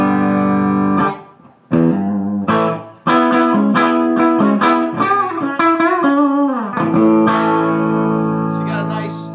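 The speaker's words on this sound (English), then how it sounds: "you got a nice vintage type raspy distortion going on there" Carvin V3M guitar amp with its drive channel at volume 6 and drive near 2 gives a raspy, vintage-style distorted guitar tone: loud chords and sustained notes played in bursts with short gaps, ringing out alone.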